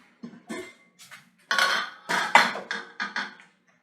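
A cooking pot is handled in a home kitchen while making gołąbki with broth and sauce, giving a series of close metallic clanks and scrapes, sparse at first and then denser.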